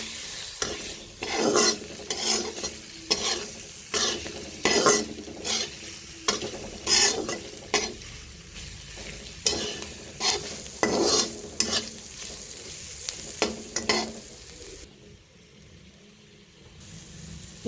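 Onions fry in a pan for a black masoor dal coconut curry, a steady soft sizzle broken by repeated scraping strokes of a spoon stirring, then the stirring stops and only a faint sizzle remains.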